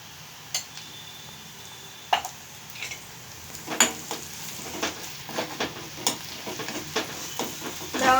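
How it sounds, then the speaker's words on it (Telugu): Chopped onion pieces sizzle in a pan on medium heat while a spoon scrapes and stirs them in scattered knocks and scrapes, a soft steady frying hiss underneath, fairly close and without talk. "ఉల్లిగడ్డ ముక్కలు బాగా ఫ్రై అయినాయండి"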